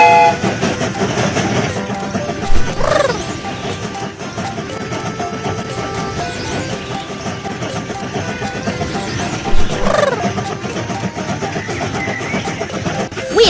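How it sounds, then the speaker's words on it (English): Cartoon train in a children's game starts up and runs with continuous rhythmic clattering over steady rumble, two brief whistle-like toots rising out of the mix, and game music throughout. "The train is about to start."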